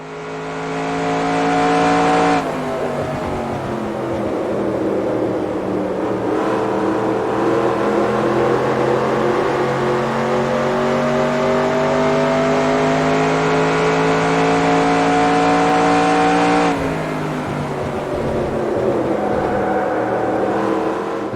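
A race car laps Phoenix in NASCAR Racing 2002 at full throttle, its engine a loud, sustained, buzzing roar. The pitch dips and shifts at gear changes and corners, then climbs back steadily with no talk.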